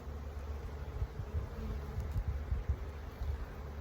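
Honeybees buzzing at an open hive during a spring split inspection, a soft low steady hum with faint rustling, quiet and close with no talking.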